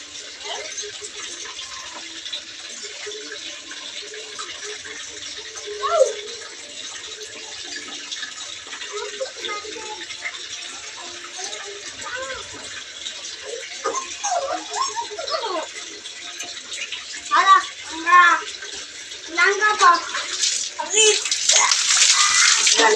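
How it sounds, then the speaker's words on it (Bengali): Water splashes and pours continuously while children are bathed after being oiled, with intermittent voices and someone talking over the steady wash of water, growing louder toward the end. "আমি একটুখানি গায়ে জল ঢেলে নেবো"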